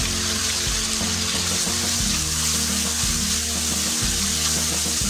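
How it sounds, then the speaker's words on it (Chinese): Side vegetables stir-fried in a pan with soy sauce and salt, giving a steady loud sizzle over repeated low scraping and tossing strokes about once a second. "放入准备好的配菜翻炒"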